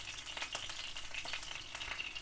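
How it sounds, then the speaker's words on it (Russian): Coriander, black pepper and hot red pepper sizzle in hot oil, a steady close crackling fry with bright spitting pops and faint stirring, no voices. "масло наше раскалилось. Сейчас добавим специи."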